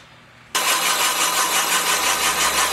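Van Norman boring bar starting up to bore a cylinder in a Willys F head cast iron engine block, a sudden loud onset followed by a steady close motor whine and grinding hum.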